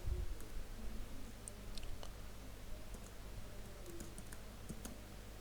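Typing on a computer keyboard while entering names for mail-merge labels produces faint, irregular key clicks over a steady low hum, with no talking.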